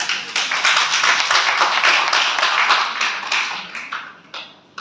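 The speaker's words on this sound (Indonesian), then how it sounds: "berikan tepuk tangan yang meriah kepada Dewan Juri kita" Audience applause for a jury panel at an academic event, a dense, steady clapping that fills the room and fades slightly toward the end.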